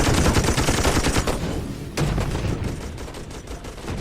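A Mark II machine gun in the game Toy Soldiers fires sustained rapid volleys, with loud, dense, continuous fire and a sharp renewed burst midway, and no voices.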